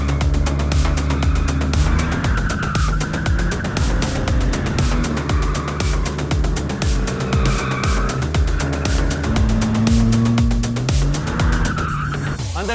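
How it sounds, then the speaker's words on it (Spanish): A car drifting through an illegal street race scene, engine revving hard and tires squealing continuously for over twelve seconds, loud and close with rising and falling pitch as the wheels slide. "Soltando de golpe el embrague y consigues que clave un poquito y ya empiezas a derrapar"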